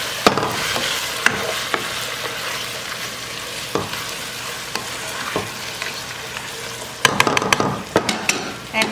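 Garlic and vegetables fry and sizzle in a pot under steady stirring, with scattered spoon knocks and a burst of quick clattering strokes toward the end.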